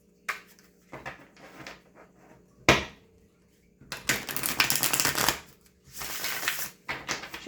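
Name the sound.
shuffling a deck of tarot cards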